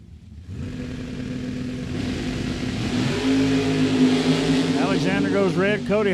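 A drag racing car at Mid Michigan Motorplex launches down the strip, its loud engine roar building and revving higher, then rising in sweeping pitch, with an announcer talking over it.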